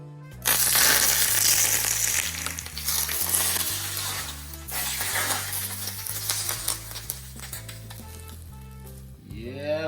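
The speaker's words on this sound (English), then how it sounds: "Here's the sizzle." Hot oil poured over steamed fish, a loud crackling sizzle that starts abruptly and fades gradually, with background music underneath.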